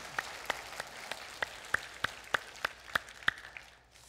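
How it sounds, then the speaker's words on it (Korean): Congregation clapping at a Sunday worship service in church, heard as a faint, sparse series of about a dozen crisp claps in a steady rhythm that fade out at the end. "영광의 박수부터 드립시다."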